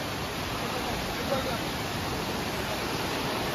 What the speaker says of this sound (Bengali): এখানে কি স্রোত আজকে জলের।